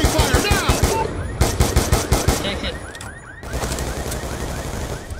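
Rapid gunfire from Call of Duty: Black Ops II, loud bursts of automatic shots with fast repeated cracks and a short lull midway before firing resumes, dense and close.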